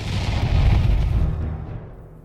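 A single deep, booming explosion in a Spanish-language audio story, loud and close, swelling for about a second before its rumbling tail fades out to silence.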